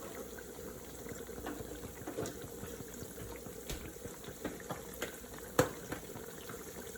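Sweet plantains fry in a non-stick pan, giving a steady soft crackle and bubbling hiss, close and fairly quiet, broken by a few small pops and one sharper click near the end.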